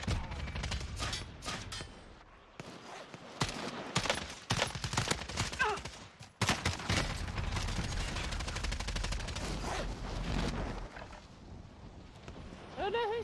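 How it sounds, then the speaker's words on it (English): Bursts of gunfire from the Warzone video game, rapid shots and fusillades rattling through most of the stretch at varying distance, with brief pauses between volleys and some voices mixed in. "Oh no, who's shooting at me?"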